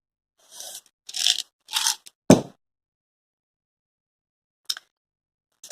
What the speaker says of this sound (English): a crunchy cookie.